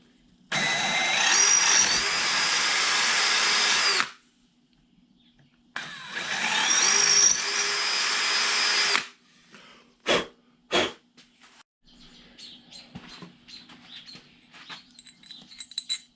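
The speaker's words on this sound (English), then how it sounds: "the holes here on this steering bracket need to be drilled out to 11/32 of an inch" A power drill bores out the holes in a pontoon kicker motor's steering bracket to 11/32 inch. Two loud, close whining bursts of several seconds each are separated by a pause, followed by a few sharp clicks and faint handling noise.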